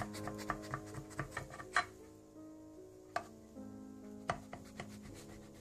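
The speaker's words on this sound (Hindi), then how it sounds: "इस तरह से आप चौकोर पीसेस काट लें इसके" A knife cuts a tray of baklava into square pieces, giving a string of faint, sharp taps at irregular intervals over a low, steady background hum.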